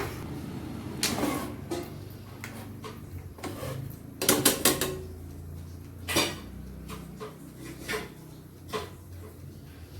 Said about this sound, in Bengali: এবার মাছগুলো দিয়ে দেবো এয়ার ফ্রায়ারে।